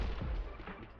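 Shotgun blasts in the action video game The Hong Kong Massacre, a dense, booming burst of gunfire that fills the whole moment, loud and heavy with no voice over it.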